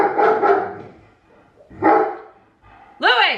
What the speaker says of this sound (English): there's a billion and one dogs barking right now